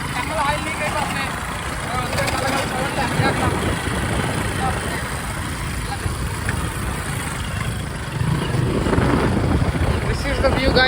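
An old Hero Honda CD 100 motorcycle engine, restarted after years abandoned, runs with a steady near putter and rattle, while someone talks over it throughout.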